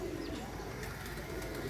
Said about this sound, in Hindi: ये चेक करें जी कबूतर।